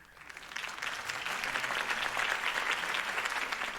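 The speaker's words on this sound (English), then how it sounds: "If only Mr. Wayne, my campaign's largest backer, could have heard that applause" Steady crowd applause in the video game Batman: The Telltale Series, many hands clapping in a dense, continuous wash that swells quickly and holds at moderate loudness.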